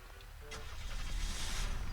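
A car engine in an online battle game turns over and picks up, a low rumbling that grows louder and rougher toward the end, heard alone without talk.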